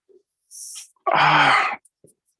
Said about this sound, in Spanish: Me están dando unas ganas de bostezar así como que...